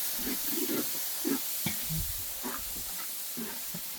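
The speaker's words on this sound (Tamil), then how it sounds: "நல்ல கெட்டியான புளிப்பு தயிர் சேர்த்துக்கிறோங்க" Thick sour curd added to hot oil for a Sri Lankan mutton curry sizzles in a steady, fairly soft hiss with small crackling pops throughout, and no voices.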